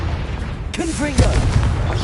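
Confringo fire-blast spell in Hogwarts Legacy, cast during combat, bursting in a couple of heavy booms with a shouting voice over the blasts.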